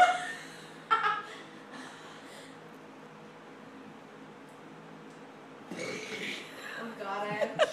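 Deliberate burps made while trying to burp the alphabet, a few short guttural bursts separated by a long quiet stretch, with people talking and laughing close by.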